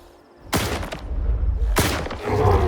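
Two loud, booming shotgun blasts in the video game STALKER 2, about a second apart, each followed by a rumbling echo tail.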